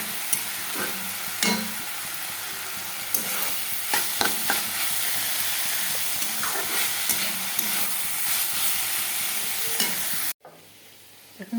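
Winter vegetables stir-fried for chow mein hiss and sizzle steadily in a hot pan, with repeated scraping stirs and clatters close by, the frying noise continuing throughout before cutting off abruptly near the end; no one speaks.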